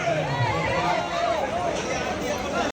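Crowd hubbub at Namo Ghat during temple darshan and aarti, a dense continuous babble of many voices close around, with a person talking over it.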